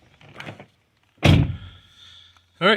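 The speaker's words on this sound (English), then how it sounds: "Yep, and the door opens and closes." A 2006 Toyota Sienna front passenger door, after a repair, opens with a loud close thunk and a mechanical latch sound, then a faint whir, ending with another sharp clunk, all fairly near and without talk.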